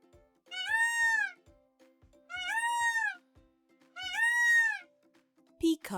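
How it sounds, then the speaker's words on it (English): A peacock gives three loud, drawn-out wailing calls spaced about two seconds apart over faint rhythmic background thumps, ending with a short burst of noise. "Peacock,"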